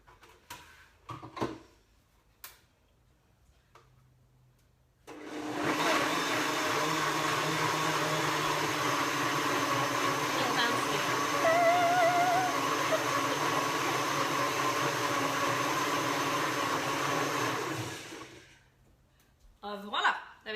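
A blender whirs steadily for about thirteen seconds, blitzing nettle soup: a loud, close, continuous roar that starts abruptly and stops cleanly, with brief handling clicks before and after.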